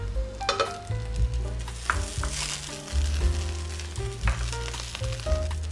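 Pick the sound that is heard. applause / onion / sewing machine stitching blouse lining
onion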